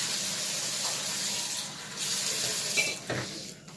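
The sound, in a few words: taking water from a tap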